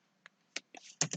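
A computer keyboard during server setup on a Webmin hosting control panel: a few close, sharp key clicks, spaced apart and then bunched into a quick final pair, with no talk.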